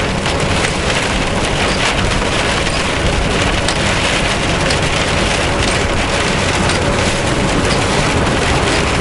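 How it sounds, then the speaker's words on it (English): Heavy thunderstorm rain drums steadily on a big-rig truck cab, a dense, loud, unbroken wash of rain noise that fills the whole stretch with no talk. "with rain this heavy"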